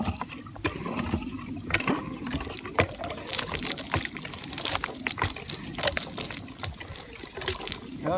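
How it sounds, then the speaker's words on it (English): Water gushes and trickles from a hand pump freshly fitted with a new leather seal, splashing unevenly over several seconds outdoors after heavy rain, with faint creaks and clanks from the pumping. "We'll start pumping and we'll see what happens."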